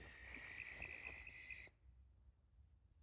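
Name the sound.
owl calling at night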